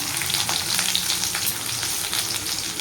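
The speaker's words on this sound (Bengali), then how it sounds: "পেঁয়াজটা ভালো করে ভেজে নিই" Onion fries in oil with panch phoron, giving a soft, even, crackling sizzle that runs steadily throughout, near but quiet.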